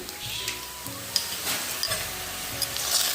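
Spiced paste dropped into a hot frying pan, a loud crackling sizzle with a few sharp pops and stirring scrapes over a low background hum.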